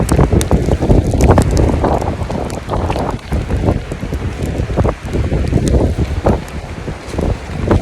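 Loud, violent wind from Cyclone Ditwa in Chennai, Tamil Nadu, roars and buffets the microphone continuously, with gusting bursts and rushing noise throughout and no voices.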